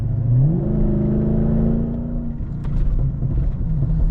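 A Mercedes CLK 500 V8 engine revs up with a deep rising roar, then settles back into a low rumbling idle, loud and close with no talking.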